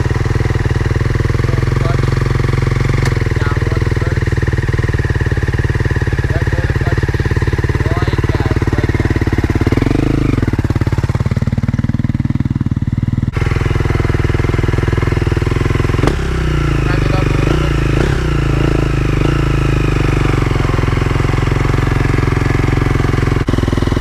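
A clutch dirt bike's engine runs loud and close throughout, holding a steady low drone with a dip and swell near the middle as the throttle eases off and the bike pulls away again.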